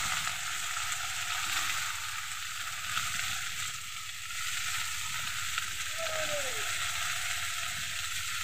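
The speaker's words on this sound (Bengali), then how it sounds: "এবার দিয়ে দিলাম আমি আলু আর পটলটা। এটা আমি একটু ভাজা ভাজা করে নেব।" Chunks of potato and pointed gourd fry in a pan, a steady close sizzle that runs unbroken throughout, with a faint brief squeak near the end.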